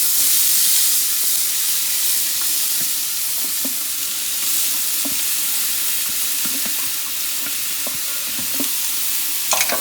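Onion and garlic sizzle steadily in extra virgin olive oil in a saucepan over medium heat, a loud continuous frying hiss broken by occasional soft stirring clicks, with no talking.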